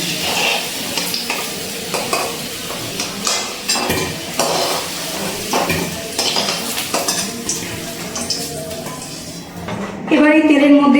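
Sajne data (drumstick pods) frying in oil in a pan, after potatoes were fried, with steady sizzling and clinking of a utensil stirring throughout, a louder crackling burst near the end.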